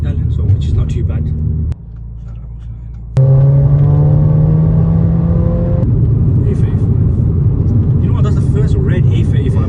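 A Mercedes A200 cruising on the motorway gives a steady, loud low exhaust drone that dips briefly, then swells with a rising tone as it pulls harder, heard from inside the car with muffled voices at times.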